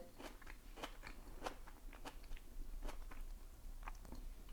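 Crunchy pink vegan salad is chewed up close in a series of crisp bites and crunches, irregular and fairly quiet, with no talking.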